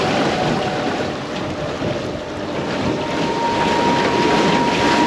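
A boat with an electric outboard motor runs across open water, the quiet drive buried under a steady, loud rush of wind and splashing water that carries on without pause or voices.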